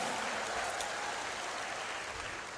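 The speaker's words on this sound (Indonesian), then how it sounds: "Tepuk tangan yang paling meriah untuk Sekolah Vokasi UGM dan juga UGM yang luar biasa" A university audience at the Gadjah Mada Vocational School anniversary applauds in a dense, steady wash of clapping that holds at the same level throughout, with no voices standing out.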